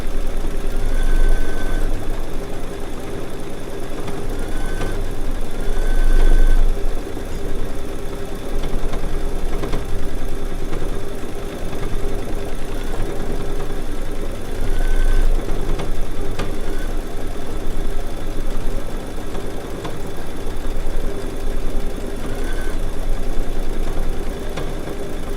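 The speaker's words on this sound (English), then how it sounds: "See, it's stitching out right to the edge like it's supposed to." A Baby Lock sewing machine runs steadily through an edge-to-edge quilting pass, a loud continuous mechanical hum with a rapid needle rhythm and a few brief higher whirs, without speech.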